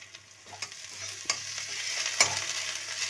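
Onion, salt and ginger paste frying in a pan for a fish-head and water lily stem curry, with a steady bright sizzle and a few sharp clicks and scrapes of stirring, close and alone with no talk.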